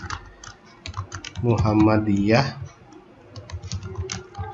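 Rapid typing on a computer keyboard, a close run of crisp key clicks that pauses while someone speaks and then resumes.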